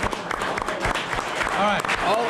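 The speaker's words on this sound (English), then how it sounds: "Let's get people clapping" A crowd at a Louisiana sports show claps and cheers in a dense, steady wash of hands and noise, with voices calling out over it throughout.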